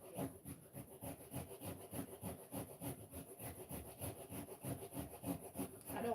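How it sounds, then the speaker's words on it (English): Coconut grated by hand on a metal grater for Jamaican grated cake, a steady rasping scrape repeating in quick, even strokes close up, with no talking. "I'm grating up coconut to make Jamaican grated cake."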